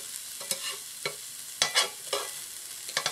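Onion is stirred and sautéed in a skillet: a soft background sizzle broken by several sharp scraping tosses at irregular intervals, close by, with no voices.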